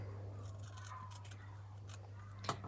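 Scissors snipping through folded paper to make papel picado, giving a few faint, close cutting sounds over a low steady hum.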